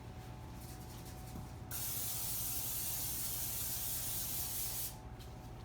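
A close cooking oil aerosol spray hisses continuously for about three seconds over a low background hum, then cuts off abruptly.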